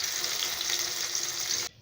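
Large pieces of paneer fry in hot oil with a steady, close sizzle that cuts off abruptly near the end.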